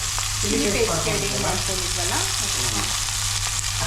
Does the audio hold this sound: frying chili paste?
yes